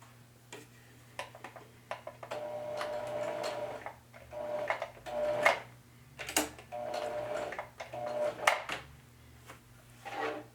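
A sewing machine runs in bursts, stitching seams on cut pant legs, its steady mechanical whir pausing between runs with a few clicks as the fabric is pivoted and the stitch is locked.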